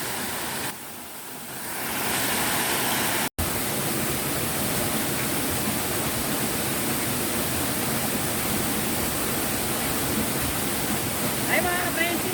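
Waterfall at Baler, Aurora, a steady, dense roar of falling water, loud and close, continuing without a break and rising after a brief quieter start.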